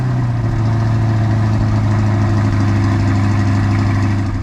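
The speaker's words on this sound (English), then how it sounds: "He did add the performance exhaust, which we all know sounds real great." A Corvette C8 with the performance exhaust idles steadily, a loud, close, low rumbling drone that holds even throughout with no revving or speech.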